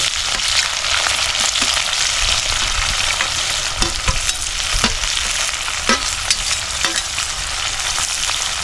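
Onions sizzling in hot oil for a spicy crab fry cooked outdoors, a dense steady crackle and hiss with occasional stirring knocks, no voices.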